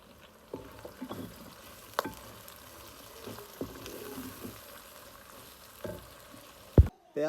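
Onions fry in a pan for aloo karela pulao, a quiet, steady sizzle with occasional soft stirring clinks and scrapes, close but faint, ending with a couple of louder knocks.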